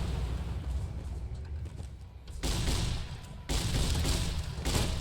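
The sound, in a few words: grenade explosions in the video game Fallout: New Vegas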